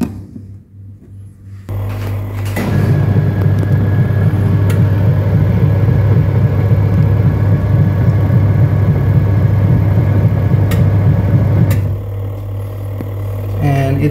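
Oscar twin tub 3.5 kg washing machine motor with rubber belt drive starts up and runs with a steady low hum and whir, close and loud, then drops back near the end.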